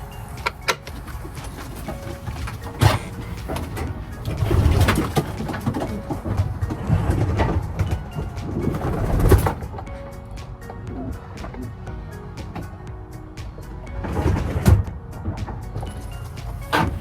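Racing pigeons in a loft, low cooing from a bird heard now and then among handling noises, clatter and a few thumps, up close.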